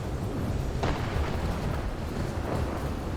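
Warships clashing with destroyers in a naval space battle game, a dense rumbling roar of explosions and booms with a sharper burst early on, loud and continuous.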